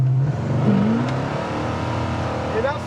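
A 1969 Pontiac GTO engine revs and pulls hard in a steady, loud rising drone, with shifting pitch as it accelerates, close by and continuous.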